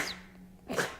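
A single sneeze, close and fairly loud, with a short intake of breath before the sharp burst.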